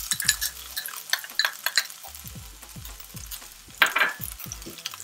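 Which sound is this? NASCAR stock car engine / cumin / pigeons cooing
cumin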